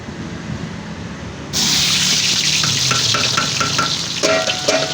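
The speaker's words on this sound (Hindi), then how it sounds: "1 किलो घी, उसके बाद प्याज इसमें डाल देंगे" Onions hit hot ghee in a large pan, setting off a sudden loud, steady sizzle that keeps going with stirring scrapes and clinks, after a quieter start.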